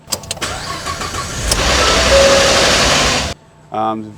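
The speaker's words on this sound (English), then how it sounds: "when you start up in the mornings, it rattles" A 2017-or-newer Ford F-150 pickup engine cranks and catches on a cold morning start, then runs with a loud, rough rattling clatter before cutting off, followed by a brief voice.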